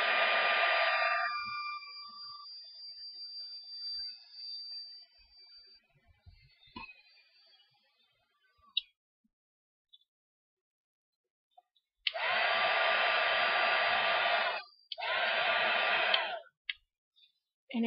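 A heat tool blows loud and close to dry sprayed water-based ink on paper. It whirs steadily, cuts out, then comes back in two more bursts with faint clicks between them.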